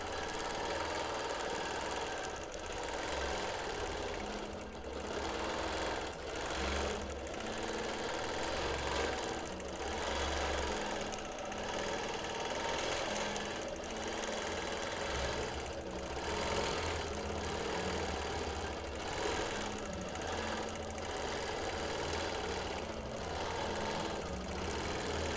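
Domestic sewing machine stitching free motion quilting, a fast steady mechanical chatter of the needle with brief pauses and changes in pace, close and continuous with no talk.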